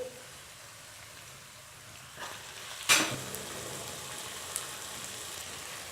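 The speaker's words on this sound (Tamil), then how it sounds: "பச்சை மிளகாய் லேசாக வதங்கிடுச்சு. இப்போ வந்து புதினா இலை, வெந்தய இலை." Green chilies, mint and fenugreek leaves sauté in a pan for corn methi pulao, a faint steady sizzle with a couple of louder stirring scrapes partway through.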